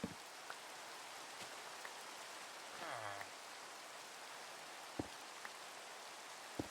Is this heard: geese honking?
no